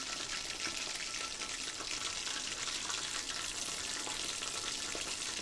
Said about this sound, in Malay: Lambat, dia kena goreng lama sikit.